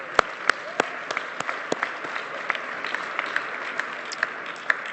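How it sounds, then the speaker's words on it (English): A moderate crowd claps continuously, with sharp individual claps standing out over the steady patter. "So a round of applause."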